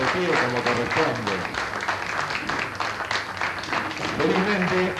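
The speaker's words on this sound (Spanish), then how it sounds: "Y vamos a aplaudirlo de pie como corresponde." A theatre audience at a tribute to playwright Roberto "Tito" Cossa gives a dense, sustained standing ovation, loud and continuous, with crowd voices mixed into the clapping throughout.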